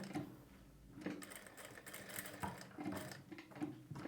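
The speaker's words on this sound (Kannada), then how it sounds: "ತುಂಬ ನಿಧಾನವಾಗಿ ಈ ಕಟ್ ವರ್ಕ್ ಶೇಪ್ ಏನಿದೆಯೋ ಅದಕ್ಕೆ ಸ್ಟಿಚ್ನ ಮಾಡ್ಕೊಳ್ಬೇಕಾಗುತ್ತೆ" A sewing machine slowly stitches around a curved cut-work shape on a blouse back neck at a quarter-inch margin, giving a close, steady mechanical whir with a regular pulsing rhythm throughout.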